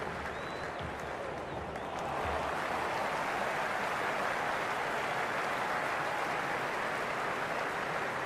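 Stadium crowd in the Cricket 26 video game during an RCB vs CSK IPL match, a steady wash of cheering and applause that swells louder after the first couple of seconds and then holds.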